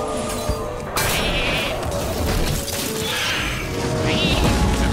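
A sheep bleats loudly from a sheep transformation in a card video game, with a couple of wavering bleats over busy game sound effects and music.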